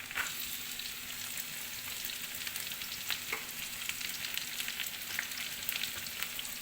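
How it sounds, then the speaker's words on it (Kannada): Onion sizzles in oil in a pan while a cauliflower palya is cooked, a quiet continuous crackle with light stirring clicks, close and without talk. "ಈಗ ಇದಕ್ಕೆ ಈರುಳ್ಳಿ ಹಾಕ್ಕೊಳ್ತೀನಿ"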